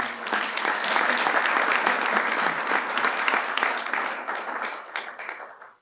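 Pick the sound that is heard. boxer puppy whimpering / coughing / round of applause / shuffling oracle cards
round of applause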